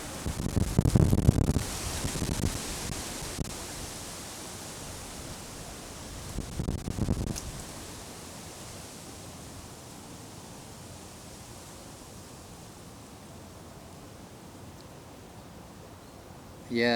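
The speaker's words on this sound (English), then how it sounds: "Wind is really strong today." Strong wind buffets the microphone outdoors on a hike, loud rumbling gusts in the first seconds and again around six seconds, then settling into a steady softer rush.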